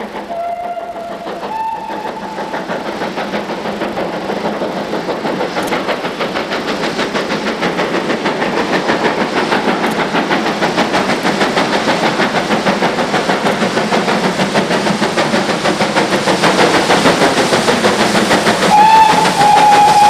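Steam locomotive 5029 Nunney Castle works hard at Sheffield on a special to Didcot, its rapid exhaust beats building steadily over twenty seconds, with short whistle toots at the start and a longer whistle near the end.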